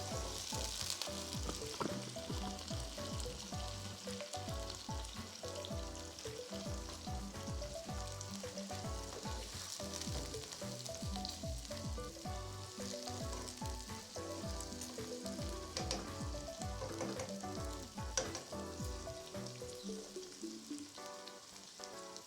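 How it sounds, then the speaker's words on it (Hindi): Okra frying for masala bhindi crackles and sizzles steadily in a pan, a dense continuous close spatter with rhythmic popping that thins out near the end, no talking. "भिंडियां साड़ियां फ्राई हो गई हैं"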